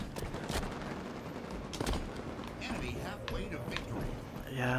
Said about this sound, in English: I try not to use the automatic weapon, but that kills like really super quick.